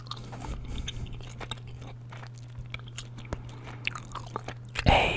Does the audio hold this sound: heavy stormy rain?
no